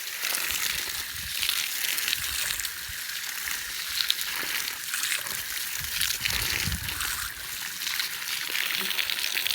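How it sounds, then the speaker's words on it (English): Water running over a Scotch Brite abrasive belt during rinsing, a steady hissing spray with sloshing and trickling, moderately quiet and continuous, with a voice speaking over it. "Do a little rinsage"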